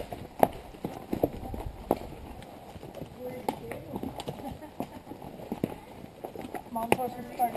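A horse's hooves clip-clop at a walking pace in a scattered series of sharp, fairly close knocks, with soft voices in the background.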